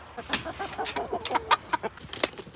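A house chicken clucks in a series of short, irregular calls close by inside a home, with faint scraping and shuffling between the clucks.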